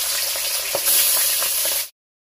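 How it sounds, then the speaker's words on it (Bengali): Rohu fish heads dropped into hot oil for a village-style fish curry, giving a loud, close, continuous sizzle with small crackles that ends abruptly. "তেলটা ভালোভাবে গরম হয়ে গেছে, এবার মাথাগুলো দিয়ে দিলাম"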